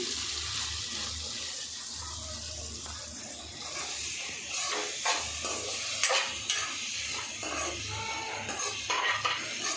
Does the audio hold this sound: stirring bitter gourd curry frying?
yes